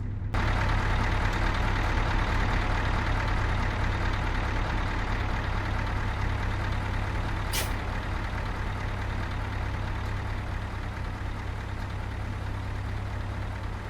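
Heavy truck engine idling in a truck simulator video game, a steady low diesel rumble held at an even level throughout, with one brief faint click partway through and no talk.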